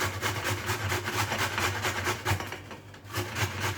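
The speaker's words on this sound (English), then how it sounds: "Just get yourself a grater and grate the carrot." A whole carrot scraped over a grater in quick, even rasping strokes, close and rhythmic, about three strokes per second with a brief pause near the end.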